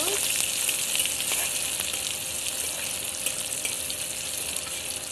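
Garlic fries in hot oil until golden red, giving a bright, continuous sizzle with a few soft spatters and stirring ticks. It sounds close and steady, and no one speaks.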